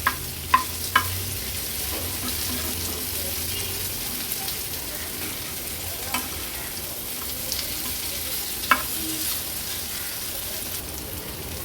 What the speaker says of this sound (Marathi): आता मीडियम फ्लेमवर ही कारली व्यवस्थित आपण पालत करून एवढ्याच तेलामध्ये फ्राय करून घ्यायची आहे